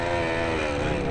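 Enduro motorcycle engine running at a steady, loud, buzzy drone, heard close up in a short continuous burst.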